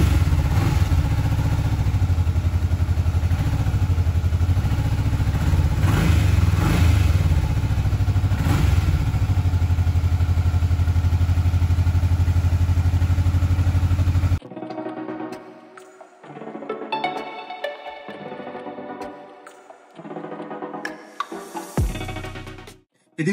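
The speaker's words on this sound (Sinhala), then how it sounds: "දැන් අපි බලමු මේ බයිකේ ස්ටාර්ට් කරලා මේ බයිකේ සද්ද කොයි වගේද කියලා" A Honda Magna 250cc motorcycle engine running close by, a loud steady idle with a few small revs for about fourteen seconds, then cutting to quieter, uneven mechanical sounds.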